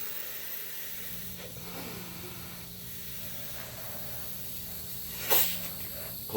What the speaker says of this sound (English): I'm going to pump it up full of some air.